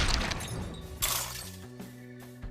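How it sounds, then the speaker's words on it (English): Glass shatters with a bright crash and scattered tinkling fragments in the video game 428: Shibuya Scramble, set against low sustained game music tones. "the faint sound of shattering glass tinkled through the air."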